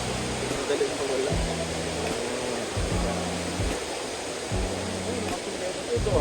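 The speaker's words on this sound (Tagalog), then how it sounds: "Running water." Water pours and splashes steadily into a hot spring resort pool, a continuous broadband rush close by, with people talking over it at intervals.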